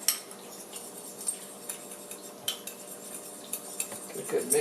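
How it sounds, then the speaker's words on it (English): A fork clinks and scrapes against a bowl while mixing ground spices, including ground mustard seed, into a homemade seasoning for hobo pies, with quick, repeated taps close by. "So I'm going to take a fork, we're just going to mix that all up."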